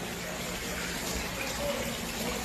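Floodwater rushes and churns inside a hotel after a storm, a loud, continuous broadband wash of moving water with faint voices underneath.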